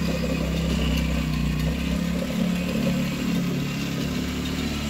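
A quad bike engine runs close by with a steady, clattering mid-pitched drone that holds evenly throughout, no talk over it.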